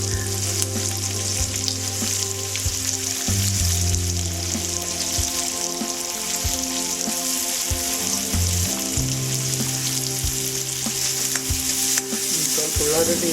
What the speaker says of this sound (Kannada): ಆಮೇಲೆ ಉಳ್ಳಾಗಡ್ಡಿ ಹಾಕ್ತೀನಿ.